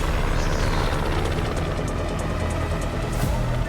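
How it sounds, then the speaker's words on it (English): A helicopter drones steadily overhead, a low, continuous rumble with a faint rhythmic rotor beat and no voices. "Helicopter."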